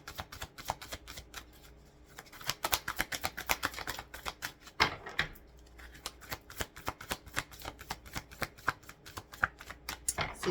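Tarot cards riffle and slap in a steady run of close, crisp shuffles, with a few sharper snaps as cards are pulled and laid down, and no voice over them.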